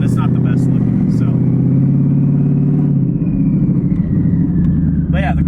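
A twin-turbo Mustang with downpipes dumped right under the car runs loud and close, a heavy continuous engine rumble with a rising rev, while someone talks over it.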